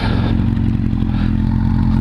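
Beginner-rider motorcycle engine while braking and shifting down to neutral, a loud, close, steady low thrum with a regular pulsing beat and no speech.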